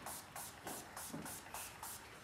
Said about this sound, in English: it's actually a spray shine, and it's nice because it just coats the hair